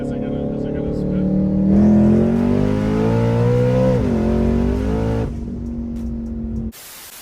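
A 1000HP 2016 Mustang GT accelerates hard in second gear, its engine note climbing and sweeping up in pitch for several seconds before easing off and cutting out, loud and close.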